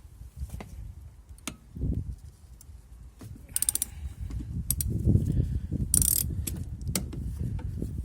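A socket wrench undoes a brake caliper bolt on a Toyota Avensis diesel, with rapid ratcheting clicks and metallic taps mixed with clanks of tools close by.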